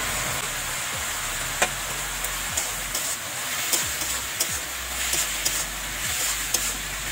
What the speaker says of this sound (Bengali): 3-4 মিনিট ভালো করে কুমড়ো ভেজে নেব।